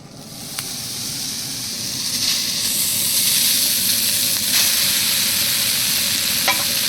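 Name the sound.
rice stir-fried with ginger and garlic in pan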